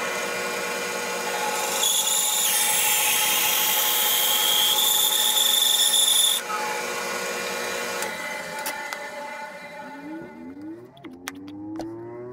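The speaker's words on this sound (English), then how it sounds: "we're going to take this over to the bandsaw, and we'll cut the lid off" Bandsaw cutting the lid off a wood and epoxy ring box, a loud steady motor drone with a shrill cutting tone that shifts as the blade feeds through, then winds down with the pitch sliding away near the end.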